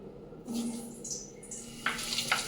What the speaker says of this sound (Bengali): কড়াইয়ের মধ্যে সর্ষের তেলের মধ্যে নুন দিয়েছি এই যে বড় বড় আলু কেটেছি এগুলো একটু ভেজে নেবো